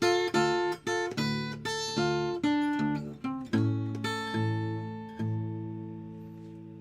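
A blues guitar turnaround: a quick run of picked notes and chord stabs that descends and settles into a final ringing chord, played alone and fairly quiet.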